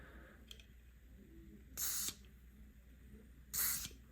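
Two short bursts of aerosol lubricant sprayed into the gears of a Brother PR-series embroidery machine during servicing, each hiss lasting about a third of a second, close and fairly loud against a quiet room.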